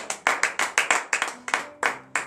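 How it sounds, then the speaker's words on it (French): Members of a congregation at a Friday morning prayer service in Benin clap in a steady rhythm of about a dozen sharp, close hand claps, with a faint voice or tone lingering underneath. "Frères et sœurs en Christ, donnez de vives acclamations à cette parole."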